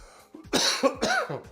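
A person close by has a short, harsh coughing fit, with several raspy coughs in quick succession and a wheezy throat clear between them.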